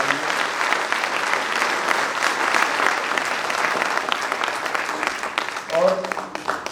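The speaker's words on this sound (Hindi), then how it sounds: "एक बार उनके लिए जोरदार तालियां होनी चाहिए।" A crowd at a World Youth Skills Day ceremony in Jaipur gives loud, sustained applause for Avani, a world number one shooter, with voices mixed in and a brief shout near the end.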